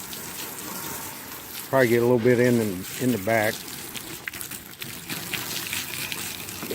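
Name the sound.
water spraying onto a truck box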